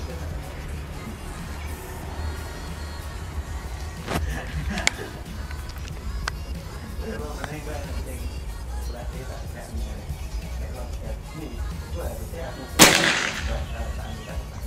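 A single sharp shot from a Predator OD 38 PCP air rifle with a folding stock and 60 cm barrel rings out late, loud and close, over a steady outdoor background with a couple of fainter clicks earlier.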